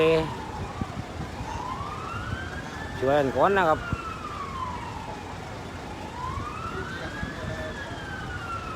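A fire truck siren wails with slow rising and falling sweeps near a burning, overturned fuel tanker on a road. Loud traffic rumble runs underneath, and someone speaks briefly partway through.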